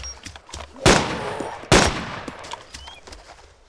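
Two loud, sharp gunshots in DayZ, spaced under a second apart, each ringing out briefly over quieter background game noise.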